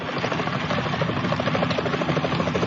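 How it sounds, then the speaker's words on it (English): Helicopter rotor chop in the video game Metal Gear Solid 2, a steady loud throbbing drone with rhythmic blade pulses and engine rumble throughout, no voices. "Is that a chopper I just heard?"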